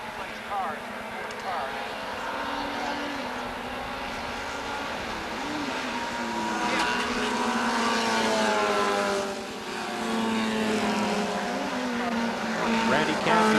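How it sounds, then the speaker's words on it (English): Race cars in a 1980 H Production Runoffs race roar around a track, engine drone rising and falling steadily throughout, with a commentator talking over it. "Randy Canfield, second place car, has quite an advantage over Cat Kaiser"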